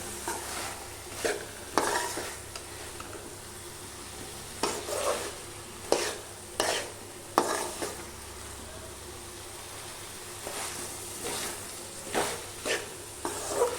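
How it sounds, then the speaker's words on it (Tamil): Drumstick pieces coated in masala and rock salt stirred in a pan, with repeated scraping strokes of a spoon over a steady low sizzle, close and moderately loud. "சேர்த்து நல்லா கலந்துக்கலாம்"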